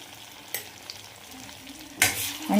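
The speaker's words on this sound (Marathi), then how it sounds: "मी डायरेक्ट जी पेस्ट केलेली आहे ती छान आता ह्याच्यामध्ये फोडणीला घालते." Spice paste goes into a hot tempering for paneer masala, a low sizzle joined by scraping stirs, then a sudden louder burst of frying near the end.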